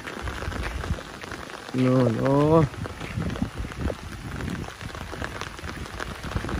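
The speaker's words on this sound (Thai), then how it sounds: "เสียงฝนเนี่ยครับพี่น้องครับ" Steady rain falls and patters on surfaces outdoors, a close, continuous wash of drops that runs throughout, briefly joined by a voice speaking over it.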